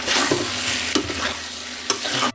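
Sesame oil and soy sauce hit a hot pan with chicken for Szechuan chicken, a loud, steady sizzle broken by a few clanks and scrapes of stirring, and no talking.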